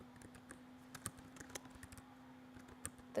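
Rapid, irregular clicks of fingers typing on a computer keyboard, fairly quiet and close, with a low steady hum underneath.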